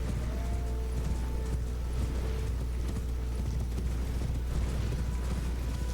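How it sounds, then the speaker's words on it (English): Horse hooves gallop in Elden Ring near the Mistwood outskirts, a continuous, even clatter of hoofbeats over a dense, steady rumble with no voices. "We're going to jump on our horse."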